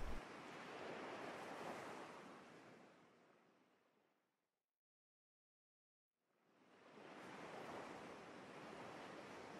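Waves break and wash up on a beach, each surge loud and full before fading into near silence, then another wave rolls in and swells back up.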